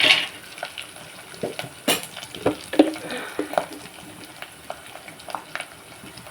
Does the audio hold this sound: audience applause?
no